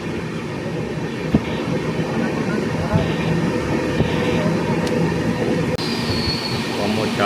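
The AP Express from Rajahmundry toward New Delhi rumbles steadily along the rails, a loud continuous roar with occasional clicks and wheel squeal, heard from on board.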